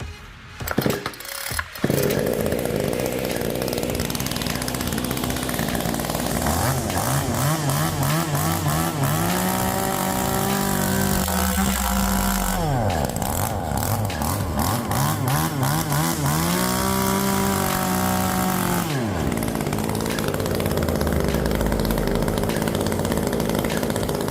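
A small, light NewWest 2511 chainsaw engine buzzes loudly and continuously, revving up and down in repeated swells before settling back to a rough idle.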